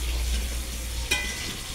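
Food frying and being stirred in a pan over a wood fire in a home kitchen, a steady low sizzle with one brief scrape of the spoon near the end, close and alone.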